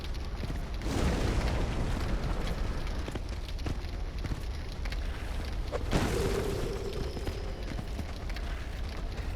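A fire bomb bursts into flames on a boar in Dark Souls, with a heavy, muffled boom near the start and another broad whoosh about two-thirds through, over a constant rumbling game ambience.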